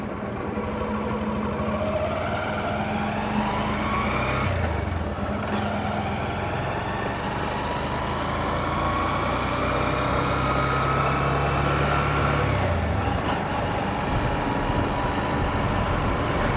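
Motorbike riding on a road out of Raniganj, a continuous engine drone with wind noise, the engine pitch dipping and rising as it shifts through gears.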